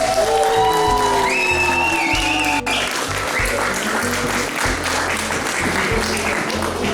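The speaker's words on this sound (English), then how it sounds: "Please give them a big round of applause." Audience applause at a first Holy Communion celebration, steady loud clapping throughout with crowd noise and a voice and music briefly heard early on.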